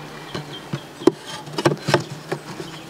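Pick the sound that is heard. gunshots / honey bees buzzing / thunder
honey bees buzzing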